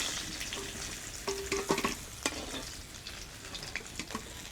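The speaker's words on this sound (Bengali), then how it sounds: "ফুলকপিগুলো ভেজে নেব" Cauliflower frying in oil gives a steady, soft sizzle, with gentle scrapes and clinks as the pieces are stirred in the pan.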